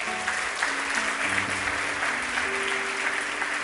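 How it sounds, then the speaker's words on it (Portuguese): Church congregation applauding during a Portuguese-language sermon, a steady wash of clapping from a large room, moderately loud, with faint sustained tones from music or voices underneath. "Aplauda o Senhor Jesus por isso."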